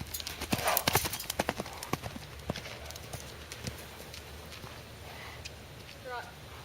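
Horse hooves trot in a steady clip-clop rhythm, loudest early and fading over the seconds, close by during a riding lesson with faint voice traces in the background.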